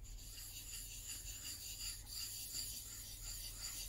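A steel chisel from a 1980s Marples Gold Chip set is rubbed back and forth on a cheap sharpening stone, a continuous close rasping scrape over a low steady hum.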